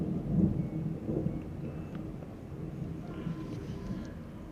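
Thunder rumbles during a big storm with rain, a deep rolling boom that swells loudest early on and then fades into a lower, continuous rumble, with faint higher tones scattered over it.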